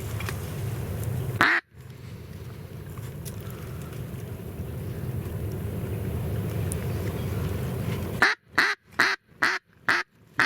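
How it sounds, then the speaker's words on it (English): Ducks quack outdoors at a duck hunt over a constant wash of wind or water noise, with a series of sharp, choppy bursts near the end. "There's lots of ducks, they're just not coming in."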